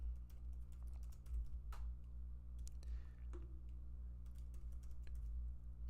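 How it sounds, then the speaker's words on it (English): Fast keystrokes on a computer keyboard during a live trading stream, a scattered run of soft clicks and taps sitting over a steady low electrical hum, fairly close and quiet. "my typing's a little off here"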